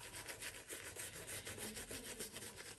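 A shaving brush works Vignoli shaving cream with added hot water, giving a steady, close wet scrubbing and swishing in repeated strokes, alone without talk.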